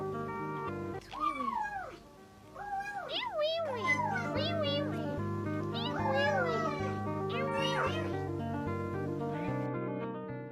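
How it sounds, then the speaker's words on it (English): A cat meows repeatedly, giving a run of rising and falling meows, fairly close, over a steady background of music. "I love Wee Wee Cat so bad"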